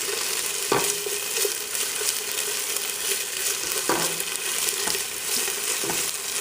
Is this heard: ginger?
yes